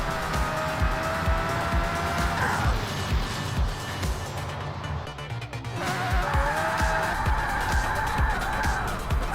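A car in the Project Gotham Racing video game, engine revving through rapid gear shifts back and forth while tires squeal, with the whine dropping briefly mid-clip before climbing again.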